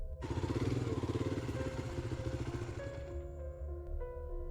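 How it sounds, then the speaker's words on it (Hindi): A motorcycle engine starts and rides off in a horror story sound effect, a close, throbbing putter of the engine that settles into a lower idle hum, with no talking. "अनिल और बॉबी बाइक पर बैठकर उस भूतिया कॉटेज की तरफ जाने के लिए तैयार हो गए"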